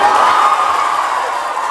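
A packed cinema audience at the Minecraft Movie screams and cheers together, a loud, sustained roar of many voices that fades only slightly over its short span.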